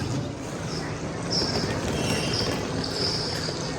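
A Tokyo Monorail train runs with a steady low rumble of wheels and motor heard from onboard, a faint high whine rising and falling over the continuous drone.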